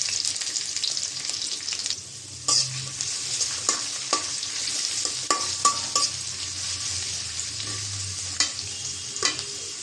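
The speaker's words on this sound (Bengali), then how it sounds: "তেল দিয়ে দিলাম। তেলের পরিমাণটা কম দিয়েছি, যেহেতু সিনার গোশ, এখানে চর্বি আছে অনেক। কাঁচামরিচ আর পেঁয়াজ দিয়ে দিলাম।" Green chilies and onion frying in oil in a wok, a close, constant sizzle punctuated by sharp scraping and stirring knocks of the spatula.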